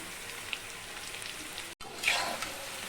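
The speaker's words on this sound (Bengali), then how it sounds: "পকোড়াগুলোকে আমি মিডিয়াম ফ্লেমে রেখে এভাবে মাঝে মাঝে উল্টে দিচ্ছি যাতে দু পিটি ভালোভাবে গোল্ডেন কালার করে ভাজা হয়ে যায়" Chicken pakoras fry in oil over a medium flame, giving a steady soft crackling hiss throughout, with a brief gap and a slightly louder bubbling burst as the pieces are turned.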